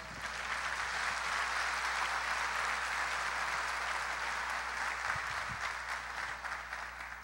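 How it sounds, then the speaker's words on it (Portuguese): A church congregation applauds steadily for about seven seconds, a dense, even wash of clapping that fills the space without pause. "Você pode aplaudir o Senhor Jesus?"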